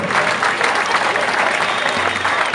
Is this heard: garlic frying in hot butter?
no